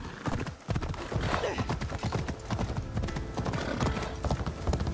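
Rapid clip-clop of horse hooves galloping in a video game set in feudal Japan, close and continuous for several seconds with a brief break near the start, no talk over it.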